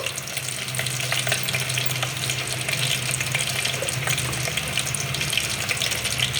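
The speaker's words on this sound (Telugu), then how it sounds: "ఇక ఆయిల్ హీట్ ఎక్కిందని ఇప్పుడు ఇందులో ఈ గుడ్లు వేసుకొని ఫ్రై చేసుకుంది." Eggs fry in hot oil in a pan, a loud, continuous, close sizzle and crackle with a dense hiss that holds steady throughout, with no talk.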